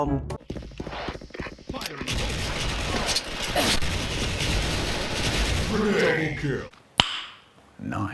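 Rapid bursts of M4A1 rifle fire from the Special Force shooting game crackle in quick volleys, loud and sharp, with a brief pause and a final single crack near the end.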